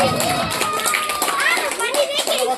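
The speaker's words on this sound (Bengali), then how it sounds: "মেহেদি হাসানের জন্য একটু হাততালি" Audience at a 2024 mosque religious gathering in Bangladesh applauding prize winner Mehedi Hasan: dense, close hand clapping fills the short moment from start to end.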